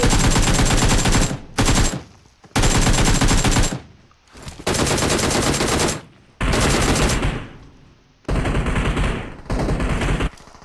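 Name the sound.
gunfire in video game PUBG Mobile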